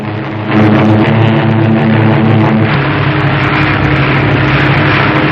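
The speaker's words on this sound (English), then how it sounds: "Stand by the land planes." A WWII-era propeller aircraft lands on an aircraft carrier, its engine swelling into a loud, close, steady drone that holds to the end.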